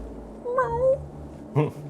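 A person voices a cat's meow in a drawn-out, wavering imitation, then gives a shorter second mew, with low room noise underneath.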